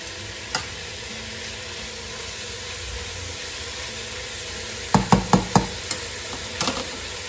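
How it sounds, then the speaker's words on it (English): Cabbage sizzling after it is added to browned beef in a pot for stew, a steady hiss ending in a cluster of close clatters and knocks, with no talking. "I'm just going to go ahead and throw this cabbage in here."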